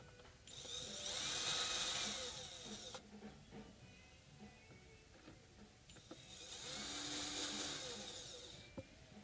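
A power drill on its lowest torque setting driving a fastener during a headstock repair on an American guitar, two whirring bursts of a few seconds each separated by quiet clicks and handling, heard close and fairly soft.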